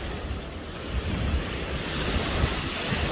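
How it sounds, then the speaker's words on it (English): Ocean surf breaks and washes onto the seashore at Tower Isle, a steady broadband roar mixed with wind rumble against the microphone, close and loud throughout, with no voices. "Even as the wave is ushered into shore by the wind, it also recedes again to be once more ushered in."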